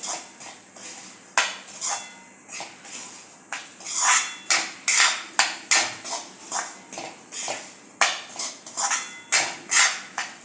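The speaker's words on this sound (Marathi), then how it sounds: "त्याच्यात रवा अगदी चांगला भाजायचा आहे" Semolina (rava) for sheera is stirred while roasting in a pan. A metal spoon scrapes and clinks against the pan in a quick, fairly regular rhythm of sharp strokes, close and clear with no talking.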